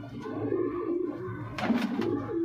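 Punjabi Malwai bloodline pigeons coo steadily and close by, with soft throaty rolling calls repeating alone through the clip.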